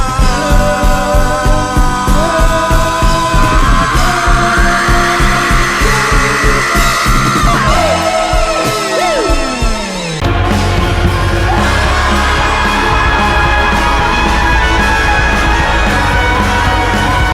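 A sustained, distorted scream ends an album, riding over a heavy, pounding instrumental that shifts midway into a thick, droning wall of sound.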